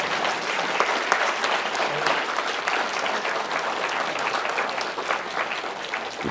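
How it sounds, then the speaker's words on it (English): Audience applause at a Third Thursday gathering: sustained, dense clapping from a roomful of people, steady and fairly loud for the whole stretch, with no talk over it. "Let's give him a round of applause."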